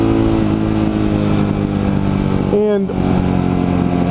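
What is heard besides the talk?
ATV quad engine revving with thumb throttle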